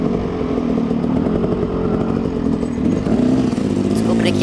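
A motorcycle engine revs and drones loudly nearby with a rough, buzzing tone, holding steady for several seconds with a faint voice beneath.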